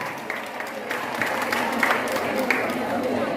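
An audience at a Creole-language event applauds in a short burst of dense, steady clapping, with a voice speaking over it.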